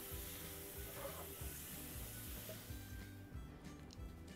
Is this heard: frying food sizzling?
yes